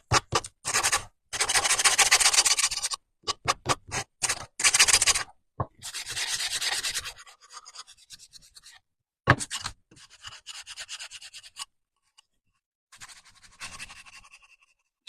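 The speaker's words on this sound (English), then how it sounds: "I'm just sanding with my little gator." Hand sanding a wooden sign board's edge with a small Gator sander, a close, loud scraping rasp in repeated bursts of strokes with short pauses, then lighter, fainter scratching toward the end.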